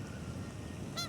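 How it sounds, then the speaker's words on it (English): A goose gives a single short honk near the end over quiet outdoor background noise. "now we've got the geese here with us"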